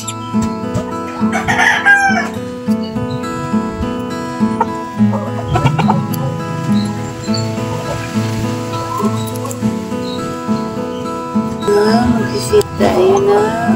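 Silkie chickens clucking and crowing at morning feeding in a backyard, with steady chicken calls throughout, layered over ongoing farm sounds and other voices nearby.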